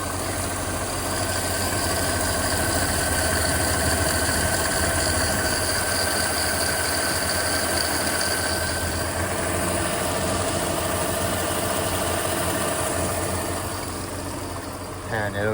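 A 2010 Mercedes-Benz SL550 AMG Roadster engine idles at a steady hum for the whole stretch, with the whir of running belts and a constant mechanical drone.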